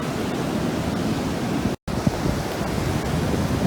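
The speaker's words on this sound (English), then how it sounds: "So now it's just the high tide coming in." High tide rolling onto a beach on a rainy day, a continuous broad wash of surf and wind noise that briefly cuts out before resuming.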